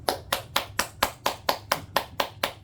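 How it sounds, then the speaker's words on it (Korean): A pastor's hands clap alone in a steady rhythm, about a dozen crisp, close claps with no voices over them. "장동훈 목사님만 공감을 표시해서 박수를 치셨는데"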